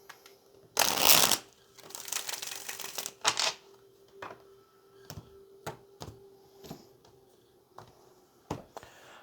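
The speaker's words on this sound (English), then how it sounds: "let's get one more good shuffle" Tarot cards shuffled by hand in a quiet room, with a long riffling burst near the start followed by a series of separate soft taps and card snaps, close and fairly loud.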